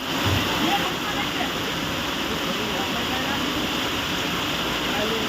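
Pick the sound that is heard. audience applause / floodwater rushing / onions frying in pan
floodwater rushing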